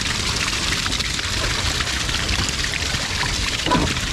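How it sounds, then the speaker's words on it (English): Water pours out steadily at a natural hot spring waterpark in Bali, a loud continuous splashing rush that fills the whole moment with no voices over it. "water is much more powerful coming out right here"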